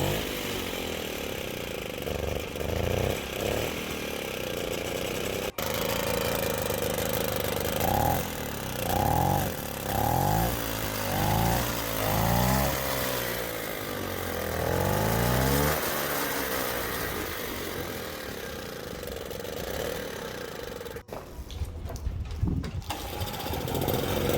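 Moped engine running at a raised idle, a steady loud buzzing drone that holds for most of the stretch, with rhythmic wavering pulses partway through and a rattling clatter near the end.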